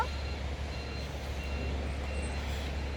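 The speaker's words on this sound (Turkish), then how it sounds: "Kamyon geliyor." A truck passes close on the road during a drive home from a hospital, making a steady, loud low rumble with faint tonal beeping over it for the whole stretch and no talk.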